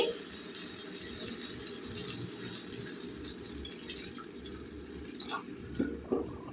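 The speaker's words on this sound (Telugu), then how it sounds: "ఇప్పుడు నీళ్ళు వేసుకోవాలండి" Water runs steadily in a continuous splashing stream into a pan of prawn curry, close and moderately loud, with a few brief knocks near the end.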